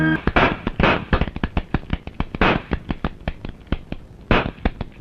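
Toy cap gun fired during Diwali, a fast string of sharp cracking pops, many shots in rapid uneven bursts, loud and close with no talking.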